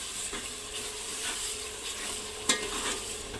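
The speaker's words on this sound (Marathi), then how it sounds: "हे अर्धा पाव दही आहे, हे घालायचं आहे आणि ह्याला पण छान खाली वर करून घ्यायचं आहे" A spoon stirs yogurt into chicken biryani in a hot pan. Soft, scraping strokes run over a faint sizzle, with one sharper clink of utensil on the pan near the end.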